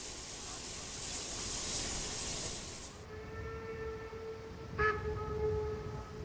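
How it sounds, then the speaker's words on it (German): Two class 44 steam locomotives, one leading and one pushing at the rear, with nearly 4000 hp between them, start a long train out of Immelborn in the Werra valley: a steady hiss of steam, then a sustained tonal whistle-like note with a brief burst. "Nur langsam kommt der lange Zug in Fahrt. Trotz der fast 4000 PS Leistung."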